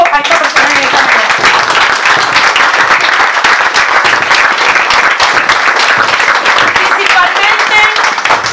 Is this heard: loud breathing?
no